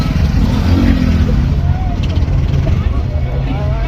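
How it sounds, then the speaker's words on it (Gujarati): An auto rickshaw from Sabarkantha drones along a road with passengers aboard, a loud, steady engine rumble heard from inside, with voices talking over it. "રિક્ષા કરી છે સાબરકાંઠાની અમે."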